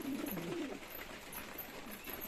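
Fancy pigeons cooing softly nearby, low rolling coos at the start followed by quieter murmuring, with no talking.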